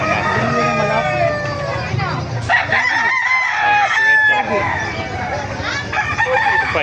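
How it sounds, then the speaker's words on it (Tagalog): Chickens and roosters at the Bocaue market crow in overlapping, drawn-out calls amid steady clucking, close and loud, with a murmur of crowd chatter underneath. "Ganda ng mga manok mga kamasar."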